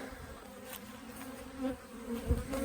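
Honey bees hum steadily around open hives as a beekeeper inspects 32 colonies and sets them up for splits, a dense continuous drone with a few louder passes close by and no talk.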